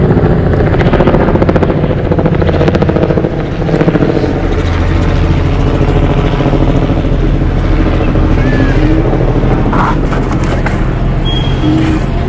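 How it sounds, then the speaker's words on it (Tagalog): A helicopter flies near the Seattle Space Needle, its loud, steady rotor and engine drone sustained for several seconds against wind buffeting the microphone, with no clear speech. "Helicopter."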